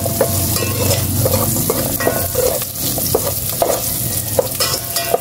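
A small amount of pork fries in a pan, a loud and continuous close sizzle with repeated stirring clatters and no talking.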